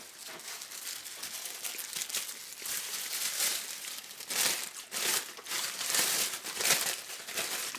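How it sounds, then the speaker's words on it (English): Close, steady crinkling of a thin plastic grocery bag being handled and folded, with rustling bursts rising and falling. "Plastic bag from your grocery store."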